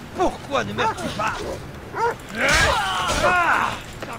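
A dog barking and yelping in the video game Assassin's Creed Odyssey, a quick series of sharp barks followed by a longer snarling, growling burst, close and loud.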